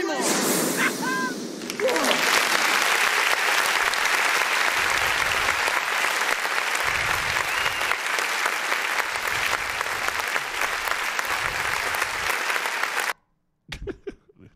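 Studio audience applause on a live talk show, a sustained dense wash of clapping that swells after a brief opening with a voice and holds steadily loud for about eleven seconds before cutting off abruptly.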